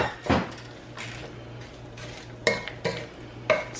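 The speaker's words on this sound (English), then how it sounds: "So just kind of mix that together and add my soy." A utensil stirs a soy sauce mixture in a pan during meal prep, giving several clinking scrapes and taps spaced irregularly over a faint sizzle and steady low hum.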